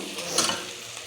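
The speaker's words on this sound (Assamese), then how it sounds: "এতিয়া অকণমান ভাজি, তেলত ভাজি" Green chillies for a pickle fry briefly in oil, giving a short, close sizzle with a light stirring swell in the middle and no voices.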